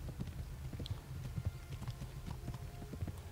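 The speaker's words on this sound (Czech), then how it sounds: "Běž koni, utíkej." A horse gallops in the medieval game Kingdom Come: Deliverance, with rapid rhythmic hoofbeats clip-clopping steadily and close for a few seconds, fairly loud with no voices over it.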